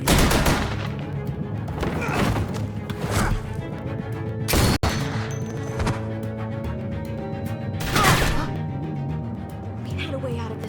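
Gunfire from The Walking Dead: A New Frontier video game, sharp loud shots bursting irregularly over a low rumbling score, with one especially violent crack mid-way and further bursts later.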